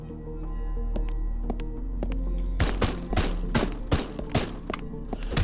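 Gunfire from the player's weapon in the video game Haydee cracks out in a rapid cluster of loud, sharp shots in the second half, following a quieter stretch with a few isolated hits over a low hum.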